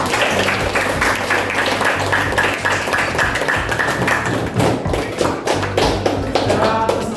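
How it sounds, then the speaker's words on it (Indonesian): A classroom group claps for the presenting teams, a dense patter of many hands at close range, steady throughout with a few louder thumps. "Kita beri aplaus untuk semuanya."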